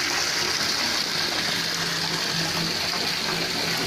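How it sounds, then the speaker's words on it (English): Water gushes steadily into a bathtub from the tap, a continuous loud hiss and splash with no pauses, heard up close in an apartment bathroom. "I put the water on to try to drown it."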